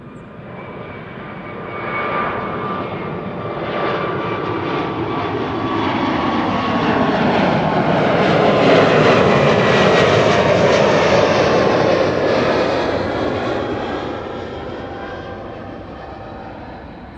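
An airliner departing Amsterdam Schiphol Airport roars loudly and steadily, swelling as it climbs past and peaking midway before easing off, with a rising engine whine running through the rumble.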